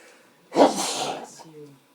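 A single loud sneeze bursts out indoors during a lecture, sharp at the start and then trailing into a breathy release, with a voice murmuring softly right after.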